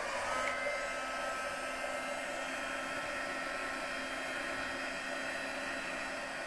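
A heat tool for embossing a card blows with a steady, even whir and hiss, constant and moderately loud at close range with no talking.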